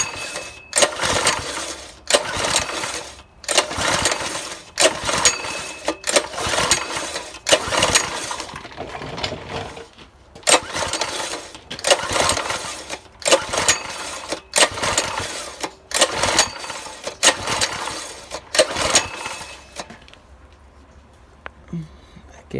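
A Predator 6.5 hp small engine is repeatedly pulled over by its recoil starter, giving loud, rhythmic rattling cranking strokes close by in regular bursts with brief gaps, ending without firing.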